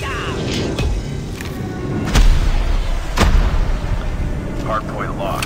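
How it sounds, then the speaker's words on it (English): Heavy booming blasts of an airstrike in a Call of Duty Mobile hardpoint match, two big thuds standing out over constant game noise and clatter, with a voice speaking in the mix. "Friendly airstrike incoming."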